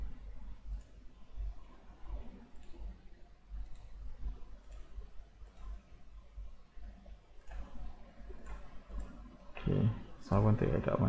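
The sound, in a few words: computer mouse clicking in Delft Dashboard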